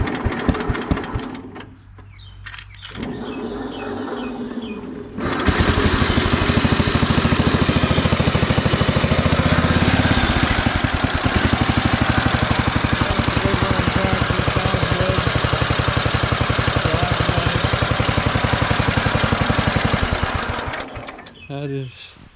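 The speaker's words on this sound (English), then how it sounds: "This is a belt drive tractor. So it does start up though." A Sears Suburban SS12 belt-drive lawn tractor engine cranks briefly, then catches and runs with a steady, loud, rapid putter close by for about fifteen seconds before cutting off; someone speaks at the start and end.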